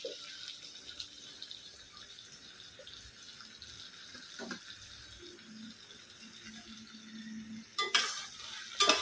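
Chopped onions hit a pan of already-fried vegetables, giving a steady close sizzle with scraping and stirring, and louder crackling bursts near the end; no one speaks.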